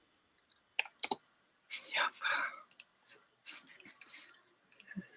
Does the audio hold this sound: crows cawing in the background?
no